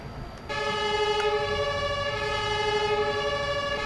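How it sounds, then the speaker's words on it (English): A loud, steady electronic siren from a MAN TGS crane truck in Farming Simulator 22 wails continuously with strong harmonic tones, starting abruptly after a brief quieter moment and holding at full volume. "Very loud siren."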